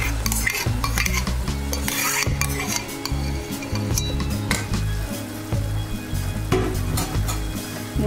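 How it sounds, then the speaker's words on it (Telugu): Onion and tomato puree for paneer butter masala fry and sizzle steadily in a pan, with continuous stirring and occasional light clinks of a utensil against the pan. "ఇప్పుడు ఈ టమాటో ప్యూరీ వేసి ఇంకొక 5 నిమిషాలు వేయనివ్వాలి"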